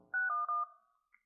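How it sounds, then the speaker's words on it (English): Quick run of telephone keypad dialing tones from an LG Watch Urbane 2 LTE smartwatch, about three clear beeps in a row followed by a faint short blip, close and alone without talk. "I'm going to go ahead and dial,"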